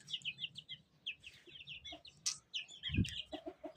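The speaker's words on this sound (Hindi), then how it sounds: "ये चूजे यहाँ खुले में 5 ही हैं पर ना बहुत अच्छे हैं।" Chicks and hens cluck and chirp in an open village yard, a busy run of short, bright calls close by, with a low thump and a few sharper peeps scattered through.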